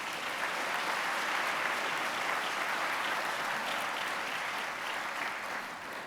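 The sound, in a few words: round of applause at a commencement ceremony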